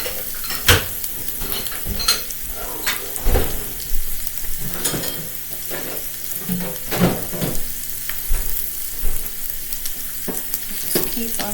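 Noodles browning in a frying pan sizzle and crackle steadily, with occasional clinks and scrapes of a utensil against the pan, close and fairly loud with no talking.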